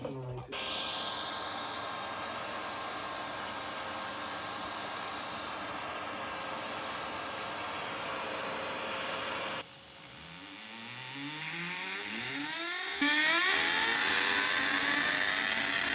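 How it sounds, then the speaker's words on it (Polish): A power drill bores into a wall while a vacuum cleaner is held beside it, a loud steady whine running throughout, dipping briefly and then rising to a harsher, louder roar near the end. "będziesz wiercił, a ja będę trzymać odkurzacz"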